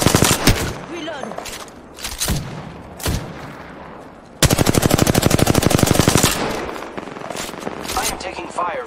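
Gunfire in the Apex Legends video game: short bursts of shots, then a long sustained rapid automatic burst mid-clip, with more scattered shots after, loud and close, mixed with game voice lines.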